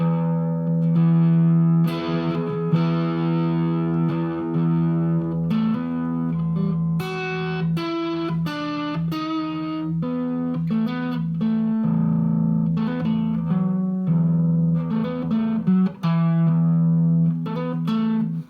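Heavily distorted electric guitar playing chords and riffs, thick and saturated with a sustained, buzzing tone, loud throughout.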